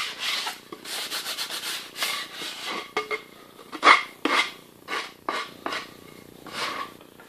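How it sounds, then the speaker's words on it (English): Sanding bar rubbing along the edges of a leather stitching pony built from scraps, a series of short dry scraping strokes in an irregular rhythm, close and fairly quiet, with one sharper clack midway. "Generally break the rest of the edges with a sanding bar."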